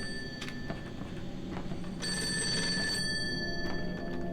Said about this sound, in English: Who is calling me at this late hour? Who dares? Where is that phone at anyways?